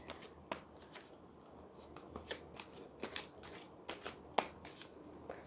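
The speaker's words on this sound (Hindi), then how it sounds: "ये कार्ड्स बेस्ट है शफल के लिए, मतलब इतना स्मूथ सरफेस है ना, कोई प्रॉब्लम ही नहीं होती।" Smooth-surfaced Lenormand cards are shuffled by hand in a quiet room, giving soft repeated riffling flicks and taps at an irregular pace, fairly faint and close, with no talking.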